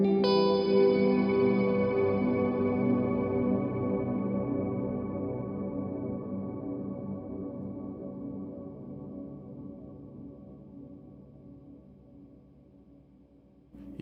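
Electric guitar played in higher notes through a Specular Tempus reverb pedal in anti-shimmer mode with intensity turned up, a dense wash of sustained tones decaying slowly over fourteen seconds with no playing on top.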